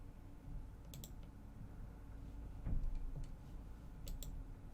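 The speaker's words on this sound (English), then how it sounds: "I'm clicking the button and nothing's happening." Faint, sharp clicks of a computer mouse button come in a few quick pairs, spaced apart over a quiet background hum.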